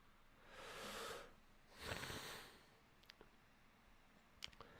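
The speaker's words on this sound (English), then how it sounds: "just had to blow my nose a bit there" A person with a plugged-up nose blows it in two breathy, hissing bursts, close and fairly quiet, followed by a few faint clicks.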